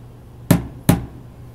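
A hammer strikes a small nail while hanging an honor society certificate, two sharp, close taps about half a second apart, each ringing briefly, then quiet.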